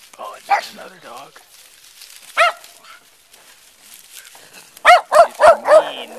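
Dogs barking behind a fence, scattered barks early on, then a rapid loud run of four or five close barks near the end, with faint talk in the background.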